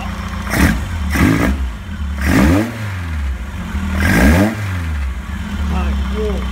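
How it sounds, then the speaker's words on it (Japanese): A Westfield car's carburetted engine, in a sales showing, is blipped repeatedly: four or five sharp rising revs that fall back to a lumpy idle, loud and close, with someone speaking between some of the blips. "ちょっと吹かしてみましょうか。"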